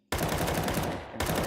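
Rapid automatic gunfire rattles loudly and continuously through a wall in a competitive esports match, briefly dipping then resuming full blast.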